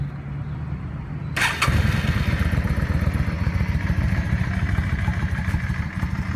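A 2008 Yamaha V-Star 650 motorcycle engine cranks briefly and fires up, then settles into a steady, loud, close rumbling idle with a rhythmic low pulse and no talk.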